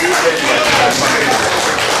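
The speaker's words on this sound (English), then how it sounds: "Y'all give her an applause." A room audience at a late-night talk show claps in a dense, steady burst of applause, loud and close, with a few voices mixed faintly into the clapping.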